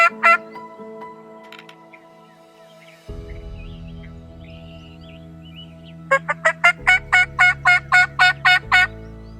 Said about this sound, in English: we had 3 gobblers within the first 15 minutes or so answering us